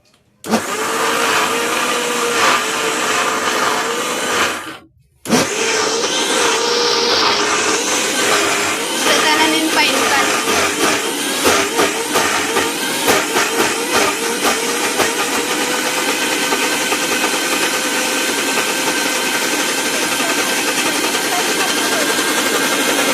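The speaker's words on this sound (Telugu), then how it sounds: "ఇలా కొద్దిగా వాటర్ వేసుకొని మళ్ళీ అయితే మిక్సీ పట్టుకోవాలి" A loud, steady mechanical whir of a mixer grinder churning cream with a little water to make ghee, briefly cutting out near the start before resuming continuously.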